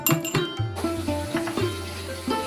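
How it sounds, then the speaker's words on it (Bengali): Three cardamom pods and a two-inch piece of cinnamon are crushed for garam masala, making about seven sharp, ringing clinks and knocks in an uneven rhythm, close and fairly loud. "গরম মশলাটাকে একটু থেতো করে নিতে হবে"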